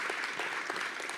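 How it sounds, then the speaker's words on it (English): A conference audience after a talk on a stage gives a brief burst of applause, dense scattered clapping heard at a moderate distance for about a second. "Please give a hand of applause to that lion."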